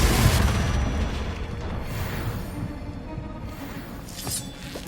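Confringo blasting spells going off in Hogwarts Legacy, a heavy booming burst at the start followed by rumbling blasts and a smaller pop near the end, loud with no speech.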